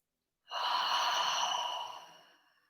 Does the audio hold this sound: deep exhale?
yes